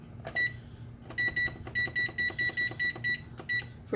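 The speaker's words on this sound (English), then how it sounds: "And we're going to set the timer" Kitchen oven timer beeping while being set for a batch of sugar cookies, a series of short, bright electronic beeps in quick bursts over a low steady background hum.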